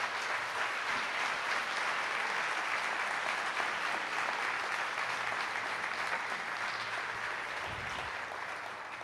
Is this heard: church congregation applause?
yes